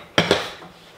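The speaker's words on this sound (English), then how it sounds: "I gotta have my cast iron pan. So there's nothing, again, nothing special about this. It's a little bit of butter into our pan." A cast iron pan knocked twice in quick succession, sharp metallic clanks close up, as a little butter goes in, then a short ringing decay.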